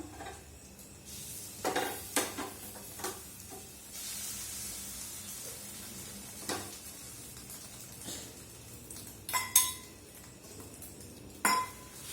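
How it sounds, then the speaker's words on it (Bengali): Beaten egg spread across a hot pan for an egg roll sizzles with a soft continuous hiss, punctuated by several close clinks and scrapes of a utensil against the pan and bowls. "তো দেখো ডিমটা আমি এখানে ঢেলে দিচ্ছি, এবার চারিদিকে ছড়িয়ে দিলাম।"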